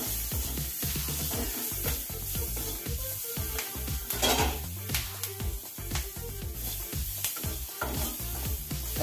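Food cooks in a pan with turmeric, giving a steady sizzle and frying hiss joined by repeated scraping and stirring strokes of a utensil, close and continuous throughout.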